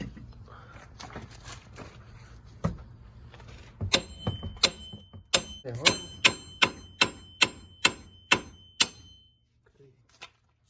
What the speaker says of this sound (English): We're just gonna hit it a couple times with the hammer.